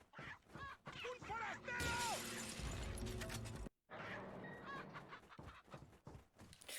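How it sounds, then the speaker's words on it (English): Chicken clucking from inside an oven in the video game Resident Evil 4, a run of squawky clucks with a sharp shattering burst, a brief silence, then more clucks. "Why was there a chicken in the oven?"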